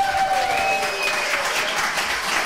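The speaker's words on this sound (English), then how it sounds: "let's give a big round of applause for Katherine Macfarlane." Cabaret audience applauding at a live night in Glasgow, a steady broadband clatter of many hands held evenly for a few seconds with no talk over it.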